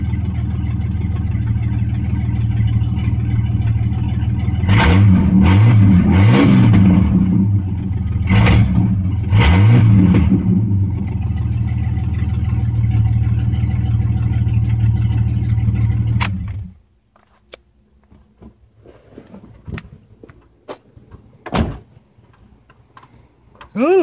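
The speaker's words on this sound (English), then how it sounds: "it sounds like it idles a little lower" A 1989 Jeep Cherokee engine idles steadily and fairly loudly, with a couple of brief revs partway through before it cuts off abruptly, leaving near silence with a few faint clicks.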